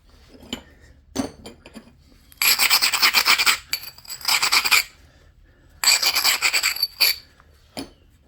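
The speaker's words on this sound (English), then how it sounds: "we got to take a few thinning flakes here" Knapping thinning flakes off a banded obsidian point, with sharp raspy scraping strokes in two longer bursts plus a few quick clicks and taps, close and loud with quiet gaps between.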